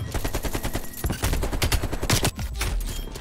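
AK-47 automatic fire in Call of Duty Cold War, rapid loud bursts of shots in quick rhythm with brief pauses between volleys.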